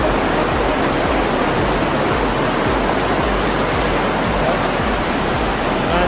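The Coban Waru waterfall near Pacet pours down in heavy flow, a constant, loud, full-bodied roar of rushing water that never lets up.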